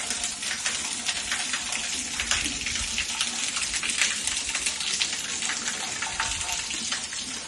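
A water feature waterfall in a house yard in Masazır pours and splashes in a steady, close, continuous rush with no pauses.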